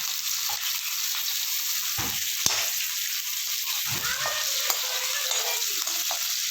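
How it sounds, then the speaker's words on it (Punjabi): Bay leaf and cumin fry in hot oil with a steady sizzle, and green chili and garlic are added and stirred in, with a few scraping knocks of a spoon in the pan. "ਤੇਜ ਪੱਤਾ ਤੇ ਜੀਰੇ ਨੂੰ ਸੇਕ ਲੱਗ ਗਿਆ ਹੁਣ ਪਾਵਾਂਗੇ ਆਪਾਂ ਹਰੀ ਮਿਰਚ ਤੇ ਲਸਣ"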